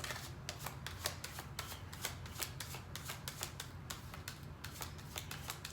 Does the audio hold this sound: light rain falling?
no